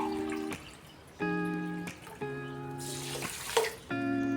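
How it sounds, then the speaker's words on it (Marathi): Water is poured from a cup in several short bursts, each a ringing, hollow splash into a container holding sugar, separated by brief pauses. "तर आता ह्याच कपाने मी 4 कप पाणी घेते।"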